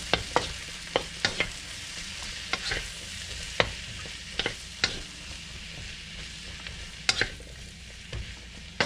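Stir fry sizzles in an electric wok, a constant frying hiss punctuated by crisp utensil clacks against the pan every second or so, close and clear with nobody speaking.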